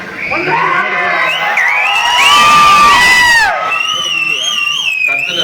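A loud, close crowd cheering and shouting at a Tamil Thirukkural festival in Dubai, with piercing whistles rising over the roar, then easing off.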